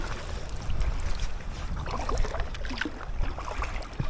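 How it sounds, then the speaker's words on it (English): An inflatable kayak rides rolling waves on the Great Glen Canoe Trail, with soft continuous water wash and wind rumble against the microphone, fairly quiet and without voices. "We've got some nice rolling waves here that's just carrying us along."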